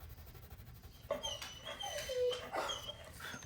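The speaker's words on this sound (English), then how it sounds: "That's my squeaker dog, Scarlett, over there, squeaking up a storm" A pet dog squeaks and whimpers in high, thin cries, moderately close indoors, rising in short bursts over a low background hum.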